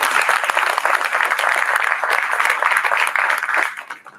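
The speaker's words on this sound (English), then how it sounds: "We could start with a round of applause." A round of applause from an audience at a commemoration, steady dense clapping that holds for about four seconds and then tapers off at the end.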